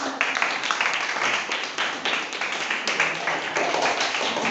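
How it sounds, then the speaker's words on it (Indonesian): A classroom group claps for a group presentation. The applause is brisk, continuous and close, with sharp individual claps through the whole stretch. "Kita beri aplaus ibu"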